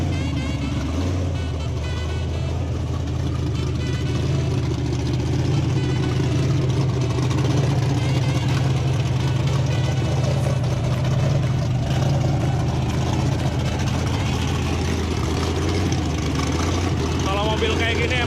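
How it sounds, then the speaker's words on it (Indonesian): An offroad race car with a V8 LSX engine idles nearby, a deep, steady rumbling drone that runs loud and unbroken throughout, with a voice talking over it. "Ini kelas 8 silinder, mesinnya LSX."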